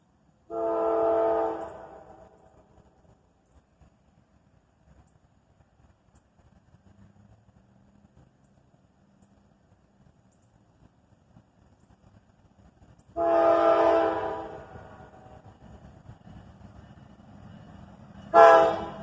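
A Norfolk Southern freight train led by a pair of Dash 9 locomotives and an ES40 sounds its horn: one blast, a long quiet stretch of low rumbling, then a longer loud blast and a final short one up close.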